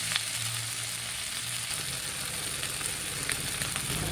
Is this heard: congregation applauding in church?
no